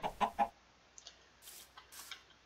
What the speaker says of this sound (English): There's chickens.